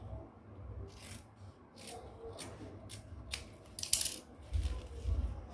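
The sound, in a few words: cutting fabric for a gown neck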